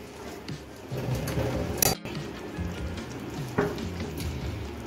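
Mixed vegetables sautéing with turmeric for a vegetarian labra. A soft sizzle sits under scraping spoon strokes and clinks against the pan, with one sharp clatter near the middle.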